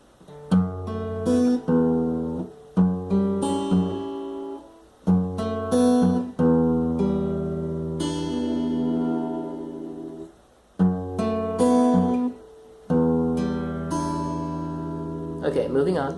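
Acoustic guitar playing a song: picked notes and chords in repeated phrases with short pauses, close and clear, alone without talk.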